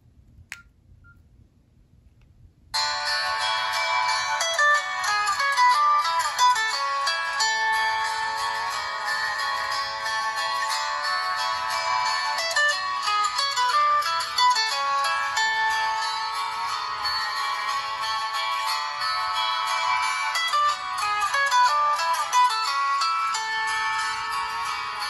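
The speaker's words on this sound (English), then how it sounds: "the first phone with the guitar version of the Nokia ringtone" A bright plucked-guitar version of the Nokia ringtone, played by a 2008 Nokia N78 phone, plays loudly and continuously after a few seconds of near silence, its notes repeating in a steady phrase.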